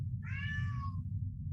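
A single clear cat meow, rising then falling over about a second, stands alone above a steady low background hum with no talk.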